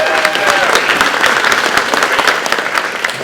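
Audience at a testimony event in a community gathering breaks into loud, sustained applause, dense clapping with some crowd cheering throughout.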